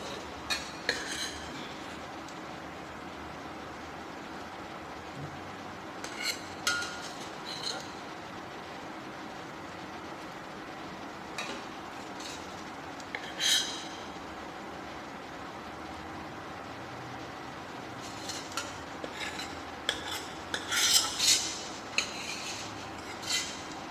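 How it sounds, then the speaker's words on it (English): Cooked mirepoix going into a pan for brown stock: scattered metallic clinks and scrapes of utensil on cookware over a steady low kitchen hum, with a voice talking at times. "So now time to add the cooked mirpua."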